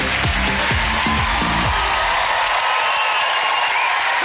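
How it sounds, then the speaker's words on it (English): A television studio audience applauds and cheers, a broad roar of clapping with a few loud thumps early on, then a steady wash of hands and crowd noise that fills the clip. "Give him a round of applause."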